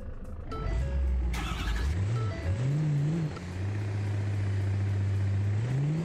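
A truck engine in the BeamNG.drive video game starts up and pulls away close by, its pitch climbing and dropping through gear changes before settling into a steady drone that rises again at the end.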